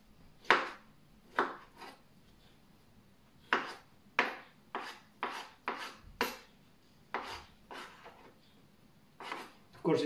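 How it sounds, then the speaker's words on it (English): A knife chopping kiwi into small pieces on a cutting board, a series of crisp, close knocks in uneven bursts, with brief pauses between runs of cuts. "So we're gonna chop it in small pieces."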